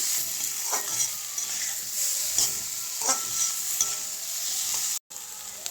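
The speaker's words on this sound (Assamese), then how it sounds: "তাৰপিছত ভালকৈ গোটেইখিনি মিহলাই ল'ম।" Turmeric and salt are stirred into fish curry in a frying pan, giving a steady hiss of sizzling oil broken by regular scraping stir strokes, with one brief dropout near the end.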